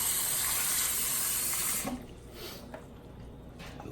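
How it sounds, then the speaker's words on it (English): Tap water runs steadily into a bowl holding an onion for about two seconds, a loud full splashing stream, then cuts off, leaving a few faint drips and handling noises. "and just cover it in water."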